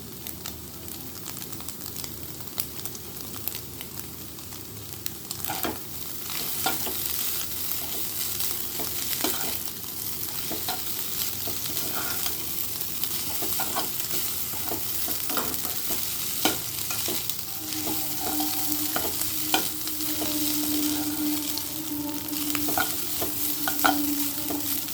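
Chow mein noodles with ground black pepper are stir-fried over a steady sizzle, with repeated spatula scrapes and clanks against the pan and a faint tonal hum later on.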